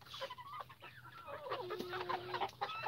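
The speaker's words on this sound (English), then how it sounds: "Like that tiny rooster that just came in." Chickens cluck inside a coop, with a small white-and-black rooster among the farm fowl; short clucks and calls come close and steadily over a low hum of barn background.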